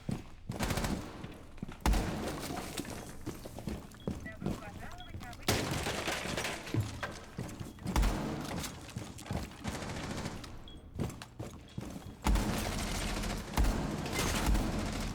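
Repeated gunfire in a tactical team shooter game, with broadband shotgun blasts and other weapon fire arriving in clusters throughout, dense and loud, amid game effects and music.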